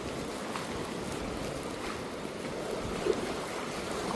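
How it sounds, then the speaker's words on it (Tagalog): Strong sea waves wash and rumble steadily against the shore in open coastal wind, a broad continuous roar at moderate level with no talking. "lakas ng alon"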